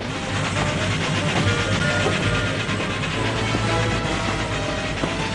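A speeding train in an animated series rumbles along, a continuous loud rolling roar with faint rhythmic rail clatter and a low steady drone, without speech throughout.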